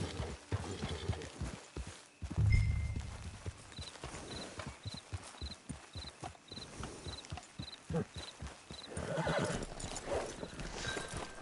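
A horse in the Red Dead Online video game walks with a steady clip-clop of hooves and gives a loud whinny early on, heard up close in game audio.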